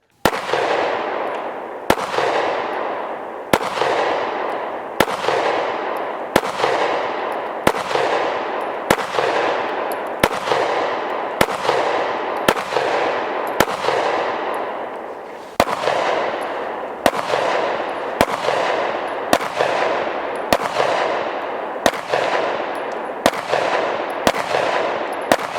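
Steady, evenly spaced single pistol shots from a Sig P365 and a Springfield Hellcat, each a sharp loud crack with a ringing decay, repeated about every second and a half with no talking.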